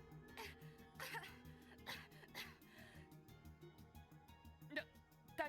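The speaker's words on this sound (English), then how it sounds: "he's having another coughing fit" A video game character in Trails from Zero coughs repeatedly in a fit, with several short, rough bursts spread over a few seconds and quiet music underneath.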